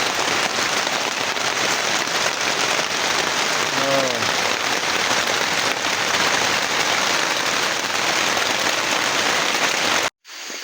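Steady rain falls in a forest, a dense, loud, even hiss that runs almost unbroken, with a faint brief call in the middle, before cutting off abruptly near the end.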